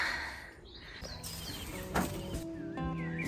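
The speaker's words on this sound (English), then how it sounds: "it sounds like the birds are happy about it too." Birds sing and chirp in a small UK forest garden on an allotment in early spring, with high whistled calls and trills scattered across the moment, moderately close, with no talking.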